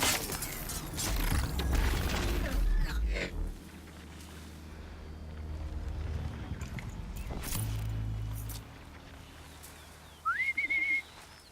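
Aloy's whistle for summoning a mount in Horizon Zero Dawn, a short rising tone that levels off into a steady pitch near the end, following a stretch of louder game sounds and music.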